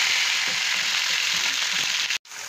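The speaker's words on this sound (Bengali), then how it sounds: "একদিকে কাঁঠালটি ভাজা হতে থাকছে" Young jackfruit pieces for a Bengali jackfruit and potato curry fry in white refined oil, giving a steady, dense sizzling hiss that runs unbroken and fairly loud before cutting out briefly near the end, with no talk.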